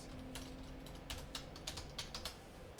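A query being typed on a computer keyboard: a short burst of close, crisp key clicks at an irregular pace over faint room hum, with no talking.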